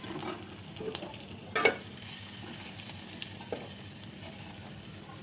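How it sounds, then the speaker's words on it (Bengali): Dried fish frying in hot oil in a home kitchen, a continuous soft crackling sizzle with occasional stirring knocks and a brief louder burst of spatter, heard close and alone. "তেলটা গরম করে নিয়ে শুটকি মাছটা তেলের মধ্যে দিয়ে ভালো করে ভেজে নেবো"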